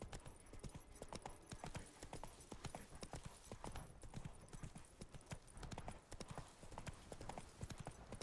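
Rapid clip-clop hoofbeats of a horse galloping in The Witcher 3 fill the clip, a steady quick rhythm close and continuous throughout, with faint background game ambience.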